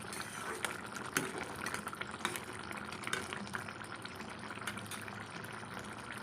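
A curry of egg and roasted brinjal bubbles in a pan as it cooks, a continuous soft simmering with small irregular pops and splutters close by and no voices.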